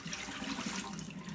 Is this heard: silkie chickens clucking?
no